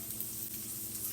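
Bacon frying in a pan gives a continuous, even sizzle up close, a steady hiss with faint crackles and no talking.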